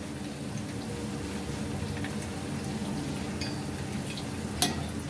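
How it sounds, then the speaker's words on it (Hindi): Ghewar batter sizzles and bubbles steadily in hot oil over a high flame, a soft continuous frying hiss with a brief sharp clink near the end and no talking. "हाई फ्लेम पर हम बैटर को डालेंगे अच्छी गरम ऑयल में"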